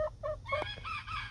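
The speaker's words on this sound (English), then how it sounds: "And there's the rooster." A farm rooster crows nearby, its drawn-out call rising and falling, with soft clucks from hens mixed in over a low ambient hum.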